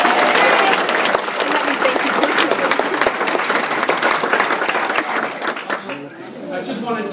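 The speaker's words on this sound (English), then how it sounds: "let's start off with a big round of applause for the kids who are real heroes" Loud, dense applause from an audience at a US Embassy gathering in Nepal after an earthquake fills the space. The clapping rolls on steadily for several seconds, then thins out toward the end.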